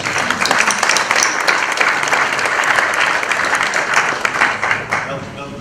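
An audience at a historic-house lecture bursts into sustained applause, a dense, loud wash of many hands clapping that holds steady before tapering off at the end.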